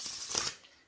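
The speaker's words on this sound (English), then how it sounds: "this is one that I feel comfortable shuffling" Oracle card deck with gilded edges being shuffled by hand, a brief riffling flutter of card stock that peaks midway and then fades, close and fairly quiet.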